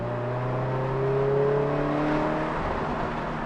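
Inside a Toyota 86 fitted with a Thermal R&D exhaust, the engine drones steadily with the windows down, a low hum with rising tones as it gently accelerates, fairly subdued and without speech.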